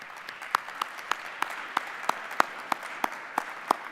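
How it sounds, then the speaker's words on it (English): Applause from an audience at a morning keynote of the 2016 AEMC Summit, heard as a sparse, fairly even rhythm of distinct sharp claps at close range, with no voices over it. "Let's give them a round of applause."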